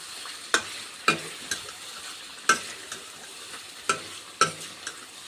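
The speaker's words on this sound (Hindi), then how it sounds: "अभी इसको अच्छे से मिक्स करनी है।" A spoon scrapes and clinks in a pan while meat fries with turmeric, cumin, coriander and chili powder, a soft steady sizzle beneath about eight sharp stirring knocks at irregular intervals, close up.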